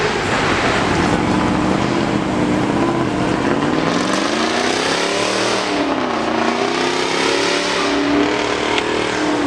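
Supercars revving loudly at a street takeover meet, a continuous roaring engine note rising and falling in pitch for about ten seconds with steady crowd-level noise underneath.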